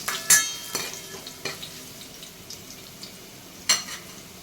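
Crushed garlic, cumin and curry leaves being stir-fried in a pan for Maharashtrian kadhi: a few sharp scraping stirs and utensil clinks over a faint, steady sizzle.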